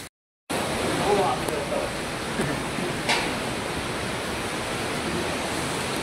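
The Savatkada waterfall near Marleshwar temple gives a steady, full rushing roar of falling water, constant and close, starting suddenly after a brief moment of silence.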